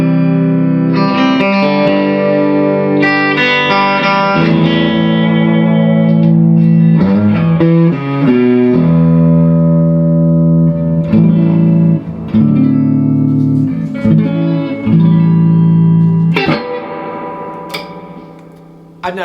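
An electric guitar played clean through a Carr Mercury tube amp with two 6V6 power tubes, a 1966 Telecaster likely, ringing chords and single notes, loud and close with lush sustain and no talking.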